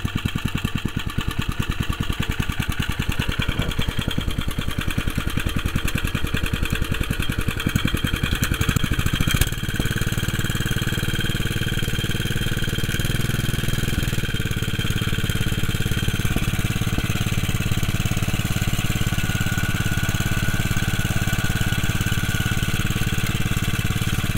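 A lawn mower engine runs steadily and close by for the whole stretch, a dense continuous drone with a brief rough change near the middle before settling back to an even idle.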